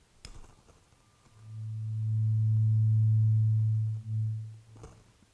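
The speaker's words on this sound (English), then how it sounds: "we're just going to tap it in onto the hand, and you'll all get to hear the vibration" A tuning fork, tapped against a hand, rings with a steady pure low hum that swells in and holds for about three seconds before cutting off, with a faint knock at the start and a light tap at the end.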